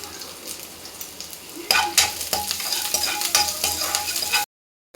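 Curry leaves and onion dropped into hot oil burst into a loud crackling sizzle after a quieter simmer, with popping spatters and a few utensil clinks continuing until an abrupt stop.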